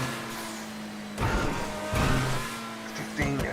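A V8 race car engine in GTA Online stunt racing, a steady droning engine tone with several surges and rising revs as the car accelerates, mid-level and mostly continuous.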